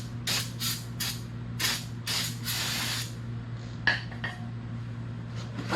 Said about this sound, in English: Let's give it a little spritz.